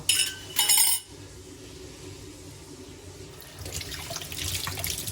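Water drains away in a kitchen sink. Two short, bright splashing bursts open it, followed by a low murmur and then a rising, hissing rush of flowing water toward the end, close by.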